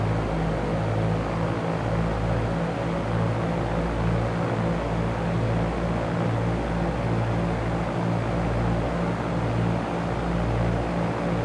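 A steady, droning Cessna propeller engine in X-Plane 11 hums continuously at an even level during a night flight around KSLC, with a low rhythmic pulse underneath and no voices.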